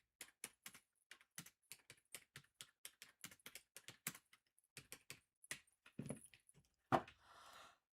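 Fingers tapping on a computer keyboard set to all caps, a fast irregular run of crisp close key clicks with brief pauses, ending in a few heavier knocks and a short rustle.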